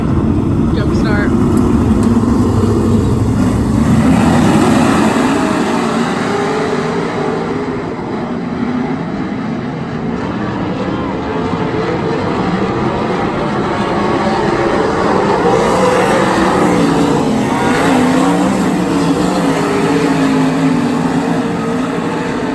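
A race car at Grays Harbor Raceway roars continuously after a jump start, a loud, steady, rough engine drone that fills the whole stretch with slight swells in intensity.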